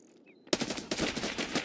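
Automatic gunfire in Escape from Tarkov bursts in suddenly after a quiet moment, a rapid, loud stream of shots firing continuously to the end.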